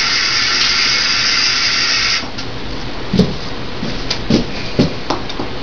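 Water running into a glass bottle being rinsed, a steady rushing hiss for about two seconds, followed by quieter splashes and a few clinks of the bottle.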